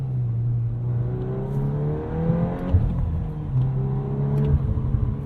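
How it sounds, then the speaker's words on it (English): A 2022 Volkswagen Golf R with a six-speed manual revs in drift mode, its engine note rising and falling in quick snappy pulls, heard steadily from inside the car with no talk. "very, very snappy throttle response there in drift mode"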